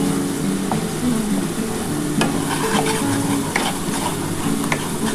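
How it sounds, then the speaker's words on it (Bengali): Spice masala for a yogurt rohu fish curry sizzles in oil in a pan while being stirred, a loud continuous close frying hiss broken by occasional scrapes and taps of the spoon, with no speech. "আগে একটুখানি মশলাটা কষিয়ে নিই ভালো করে, তেলটা ছেড়ে ছেড়ে আসার পর তারপরে কিন্তু আমি টক দইটা দেবো।"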